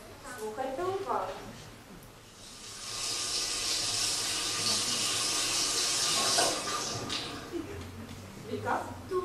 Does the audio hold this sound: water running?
yes